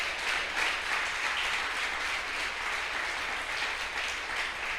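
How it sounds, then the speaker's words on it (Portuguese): A church congregation applauds steadily, a dense sustained wash of many hands clapping at once, filling the room without pause for several seconds, with no voice rising above it. "Você pode aplaudir o nome do Senhor?"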